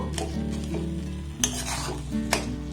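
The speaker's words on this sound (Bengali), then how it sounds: "এবার গ্যাসের ফ্লেমটাকে একদম লো রেখে এটাকে নাড়াচাড়া করে একটু মাখো মাখো করে কষে নেব" Soaked bread mixture being stirred and sautéed in a pan over a low gas flame, with soft sizzling under repeated scraping strokes of a spoon and a couple of sharper clinks against the pan.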